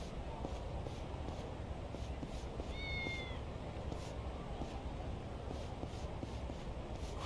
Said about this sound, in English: Now the crazy thing is I just heard a cat over here.